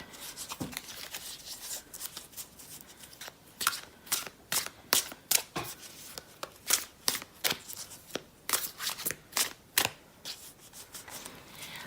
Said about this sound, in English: Okay, so I'm gonna start shuffling